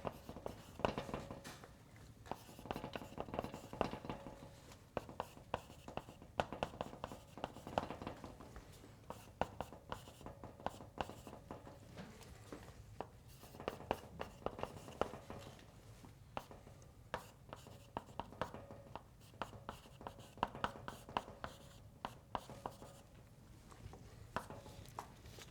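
Chalk or marker writing on a board during a lecture on two-dimensional conformal field theory, a steady run of quick scratching and tapping strokes with short pauses, moderately close and fairly quiet, with no talking.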